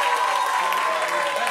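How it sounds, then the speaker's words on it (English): An audience at a comedy club in Atlanta claps steadily, a brief dense patter of applause heard close and fairly loud with no pause. "Y'all clapping up for Young Polyester in the front row."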